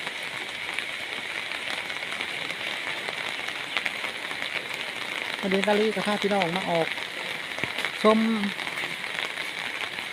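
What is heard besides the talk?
rain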